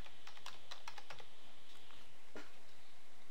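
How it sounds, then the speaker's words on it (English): Fingers type on a computer keyboard at a quiet, close range, producing a light series of irregular clicking keystrokes over faint steady background hiss. "go down here and type in customer"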